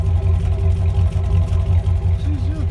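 A big truck engine idles with a steady low, pulsing rumble, close by, with a faint higher whine weaving over it.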